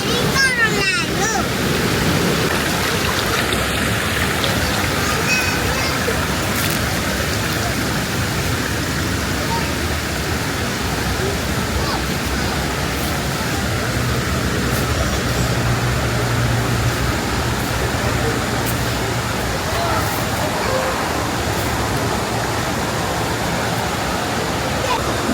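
Teladas waterfall near Maran in Pahang pours in a dense, steady roar of rushing water, loud and unbroken, with faint voices beneath the spray.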